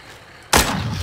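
A grenade blast in the zombie shooter game The Walking Zombie 2 erupts suddenly after a quiet half-second, a loud close boom that lingers as a rumbling tail.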